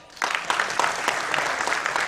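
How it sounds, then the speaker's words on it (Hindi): An audience at an Indian film event applauds, with a burst of brisk, moderately loud clapping that starts after a brief quiet moment and carries on steadily. "ये तालियां मेरे लिए, मेरे नसीब के लिए एक बार हो जाए"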